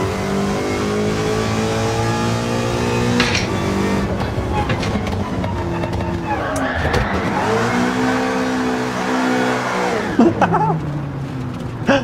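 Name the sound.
car engine revving and handbrake drifting in Gran Turismo 7 video game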